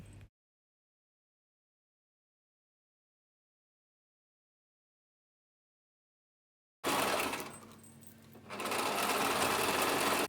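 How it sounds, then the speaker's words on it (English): Sewing machine stitching a wig, a rapid buzzing whir that starts abruptly after a long silence, dips briefly, then runs steadily and loudly close by until the end. "Using a sewing machine is literally like driving a car."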